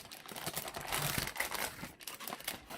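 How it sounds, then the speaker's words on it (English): Plastic packaging crinkles and rustles steadily up close as a budget GK61 gaming keyboard is taken out, with irregular crackles and crumples and no voices. "So let's take this out of the packaging and I'll show you what we get inside this packaging."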